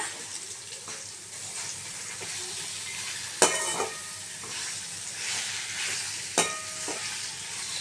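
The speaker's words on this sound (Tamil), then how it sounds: "மாங்காவை நல்லா கொஞ்சம் வதக்கிக்கோங்க" Raw mango pieces sautéing in a pan for mango pachadi: a low, steady sizzle with a couple of sharp spoon scrapes and knocks, close and fairly quiet, no voices.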